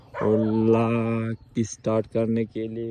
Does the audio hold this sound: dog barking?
yes